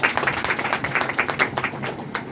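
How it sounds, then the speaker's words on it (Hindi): Audience at a motivational seminar clapping, with distinct individual claps ringing out in a quick, uneven patter over a few seconds, close and fairly loud. "ताली बजाने वाली बात नहीं थी"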